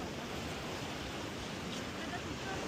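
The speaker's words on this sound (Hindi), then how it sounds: "पानी रफ हुआ हुआ है, आप पे गिरेगा पानी" Rough water surges and splashes steadily at night as waves keep up a dense, continuous wash, with wind noise on the microphone and no clear voices.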